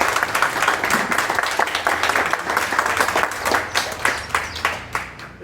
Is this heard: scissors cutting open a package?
no